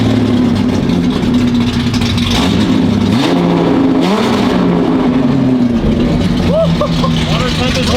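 Datsun 280Z with a fully built engine, revving sharply in several rises and falls, then settling into a rough idle, loud and close, with people talking over it.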